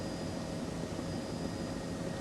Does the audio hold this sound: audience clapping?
no